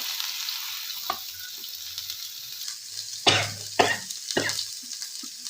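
Onions dropped into hot oil give a steady hiss and soft crackle, punctuated by a few louder scraping stirs near the middle, close by with no talking.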